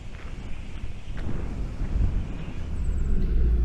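Steady wind roaring and buffeting the microphone at a campsite near Wagga Wagga, a low rumbling gust that swells slightly and stays loud throughout, with no one speaking.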